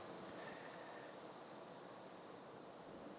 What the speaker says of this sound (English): So that sound is the rain.